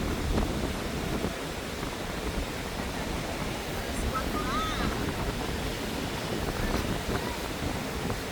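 Broad roar of large ocean waves and strong wind on a Boracay beach, continuous and loud with gusty microphone buffeting and no clear voices.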